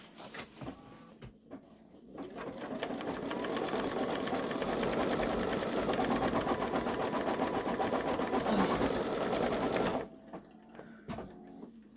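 A Babylock Solaris embroidery machine stitches a design with a steady, fast mechanical whir and needle chatter for about eight seconds, then stops abruptly into near quiet. No one talks.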